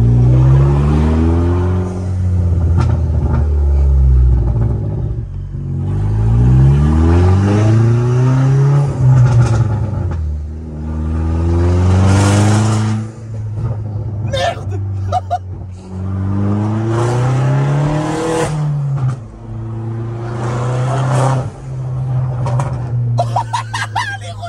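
Opel Corsa D OPC with a full straight-pipe exhaust, loud and close, revving and accelerating in repeated rising pulls with harsh raspy harmonics, dropping back between bursts across the whole stretch.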